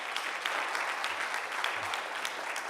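Audience applause fills a conference hall, a brief, fairly quiet patter of many hands clapping at a steady level with no voices over it.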